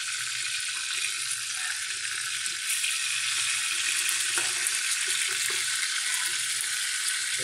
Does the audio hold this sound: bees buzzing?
no